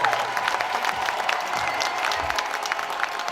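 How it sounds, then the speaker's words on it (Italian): A crowd at a street protest in Padua, where shopkeepers, sports people and business owners rally against government restrictions, gives steady, dense applause with scattered cheers throughout. "facciamo un bel applauso e facciamo tremare i muri di Palazzo"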